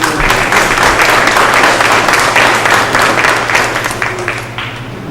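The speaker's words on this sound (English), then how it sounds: "I think we do a round of applause to thank you very much" A round of applause fills a selectmen meeting room, steady clapping from the gathered attendees that holds for several seconds and slowly thins toward the end, with a low hum underneath.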